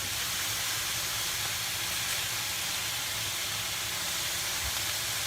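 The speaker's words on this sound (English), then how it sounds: "Getting these guys nice and seared up." Turkey meatballs sear in a hot pan, giving a steady, dense sizzle that hisses evenly throughout with no pauses and no voices.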